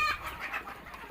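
Native Thai village chickens clucking on a farm, a busy cluster of close, fairly loud calls overlapping continuously with no pauses.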